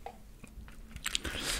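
Crispy BBQ Golden Olive fried chicken crunches as it is bitten and chewed, a few close, quiet crackling bites in a short burst with no talking.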